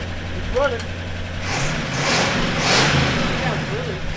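A 1985 K30 CUCV truck with a freshly swapped engine runs at a steady idle, a loud, low rumble throughout with a couple of voices talking over it.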